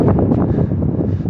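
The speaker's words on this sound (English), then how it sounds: "It's kind of breezy a little bit, and so that makes it a little bit colder." Breezy outdoor wind buffets a microphone, a steady low rumbling roar with gusty swells throughout the short stretch, close and fairly loud.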